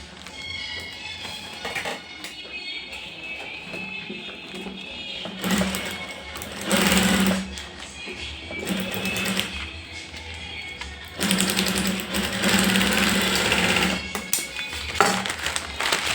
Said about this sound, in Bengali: এই সেলাই পিন মারে দিবে বা সেলাই করে দিবে।